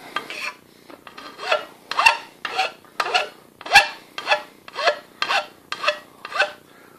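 A fine hand file is drawn across a knife blade's edge in about a dozen close, loud rasping strokes at a steady rhythm, each stroke a gritty scrape that swells and fades, with no talk.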